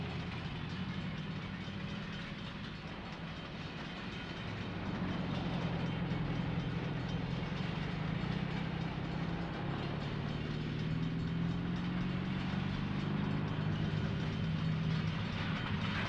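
An electric interurban train rolls along the track in a steady, loud, continuous rumble with faint clickety-clack over the rails, growing slightly louder partway through and with no voices.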